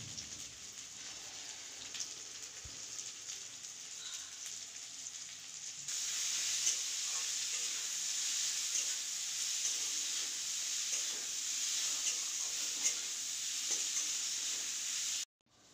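Cauliflower and potatoes frying in oil with salt and turmeric sizzle steadily while being stirred in the pan, the crackling hiss continuous and close, growing louder after a few seconds and ending abruptly.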